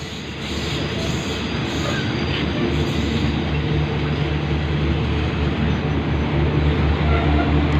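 Express train 109 at Nakhon Lampang station in Thailand on a late-night run, a steady loud rumble of rolling wagons and rail noise that fills the whole stretch, with no voices.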